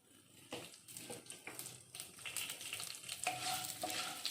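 Urad dal, chana dal and halved dried red chillies sauté in hot oil, a faint but steadily building sizzle with irregular stirring scrapes and crackles close by.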